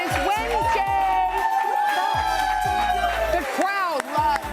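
A live studio audience on the TODAY morning show cheers and whoops loudly and continuously, with hosts' voices ringing out over the crowd noise.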